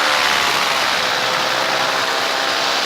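A foot-launched paramotor engine drones steadily during a long cross-country flight, a loud, continuous broadband roar with wind noise that holds even throughout, alone with no talk.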